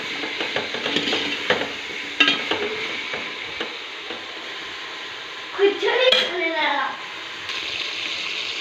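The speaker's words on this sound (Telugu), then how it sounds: "చూడండి, మునక్కాయలు వేగినాయి." Drumstick pieces (moringa) fry with a pinch of salt in a pan, a steady sizzle with scraping stirs and a brief clatter of utensil against metal, while a person talks over it.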